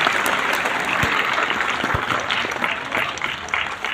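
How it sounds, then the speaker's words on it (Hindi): An audience at a direct selling business meeting gives sustained, even applause, a dense wash of clapping heard throughout without a break. "अब मेरे लिए तालियां बजा दो"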